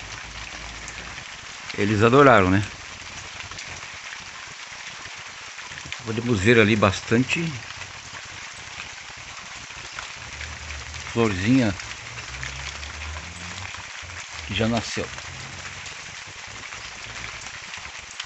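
Steady rain falls on a papaya plantation, a constant hiss of drops throughout, with someone speaking over it in short bursts.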